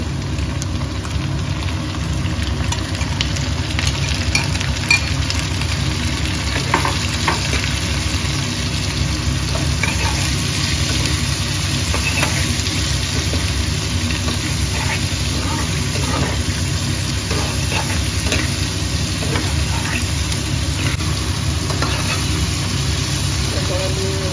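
Crab pieces frying in a hot pan for a home-cooked crab curry, giving a steady, loud sizzling hiss that runs without a break from start to finish.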